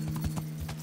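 Horse in the medieval game Kingdom Come: Deliverance: quick clip-clop hoofbeats tap in an uneven rhythm over a steady low hum, fairly close and moderately quiet, with a brief whinny-like tone mixed in.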